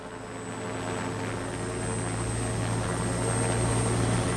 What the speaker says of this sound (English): I appreciate that we got the sound of a helicopter